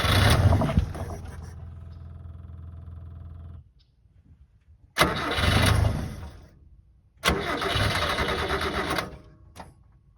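A Subaru kei truck engine cranks after a big shot of ether, with bursts of rapid starter whirring and sputtering separated by short silences, three attempts in all, and no sign of the engine catching.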